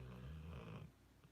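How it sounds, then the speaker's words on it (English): Pet snoring softly up close in a brief low rumbling breath, fading after under a second into quiet room noise, with no talking. "Can you guys hear him snoring?"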